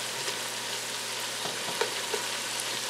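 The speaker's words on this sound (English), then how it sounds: "let's let that simmer for just a minute" Chicken and veggie soup with sun-dried tomatoes simmering in a pot, a steady soft bubbling and sizzling hiss with faint crackles throughout, close and continuous with no talking.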